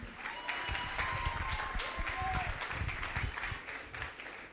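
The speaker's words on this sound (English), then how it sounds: "A round of applause to them, please." An audience at an IGCSE awards ceremony applauds in a hall, a steady wash of clapping running throughout at moderate loudness.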